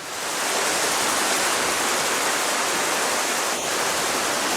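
Hogenakkal Falls roars as a broad, constant wash of rushing water, loud and dense from start to finish with no pauses and no voices over it.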